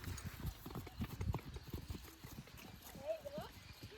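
A horse's hooves clip-clop irregularly on the ground nearby, with scattered thuds and shuffles. People talk over the hoofbeats throughout.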